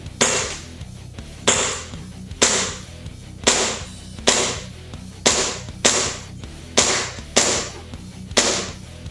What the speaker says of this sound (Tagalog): Isa pa. 10 shot ulit. Firing!